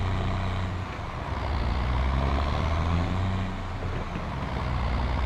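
Ford tractor engine pulling a hay bale trailer on a farm, a steady low diesel rumble droning continuously at close range with no speech.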